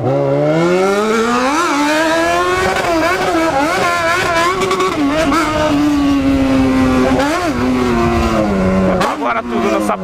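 A motorcycle engine revs hard and continuously, rising and falling in pitch as the throttle opens and closes, loud and close, with a brief crackle near the end.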